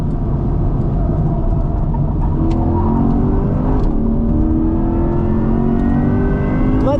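Chevrolet Corvette E-Ray engine pulling hard out of a corner and up onto a banked track, a loud, continuous rising drone heard close from inside the car with no pauses.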